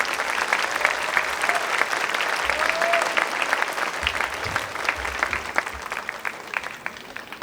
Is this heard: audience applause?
yes